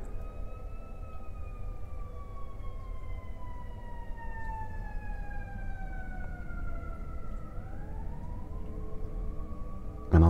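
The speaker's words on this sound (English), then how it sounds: "I'm hearing a siren outside" An emergency siren wails outside, fairly distant, its drawn-out tone sliding slowly downward and then rising again, with a sudden knock right at the end.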